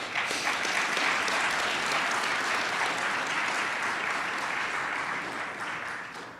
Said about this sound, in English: If we could briefly just give a quick round of applause for Zane Jones from the city of Columbus.